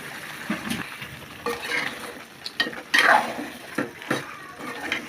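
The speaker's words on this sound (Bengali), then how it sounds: "মাংসগুলো দিয়ে দিলেন পনেরো থেকে বিশ মিনিট ভালো করে কষাইতে হবে" Goat meat stir-fries in a pan for a goat head and potato dish: irregular scraping and clanking of a spoon against the pan over a low sizzle, close and moderately loud.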